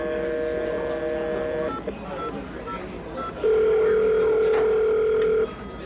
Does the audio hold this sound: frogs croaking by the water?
no